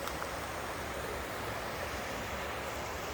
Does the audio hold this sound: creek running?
yes